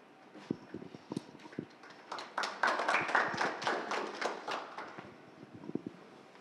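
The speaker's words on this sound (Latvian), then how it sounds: "Tādi pašķidri aplausi Mārtiņam" Sparse, thin applause from an audience at a hunting conference in Latvia: scattered claps at first, swelling briefly into a light patter of clapping, then thinning back to a few isolated claps.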